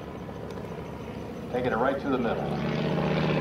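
A vintage propeller airplane flies low over a grass aerodrome, its engine a steady drone that swells closer near the middle, with someone talking over it.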